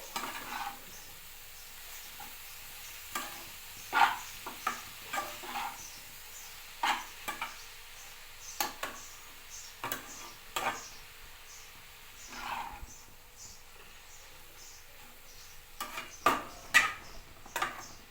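Fenugreek leaf curry stirred in a pan, with scattered scraping clicks of the spoon against the pan over a faint background sizzle, spaced irregularly across the stretch.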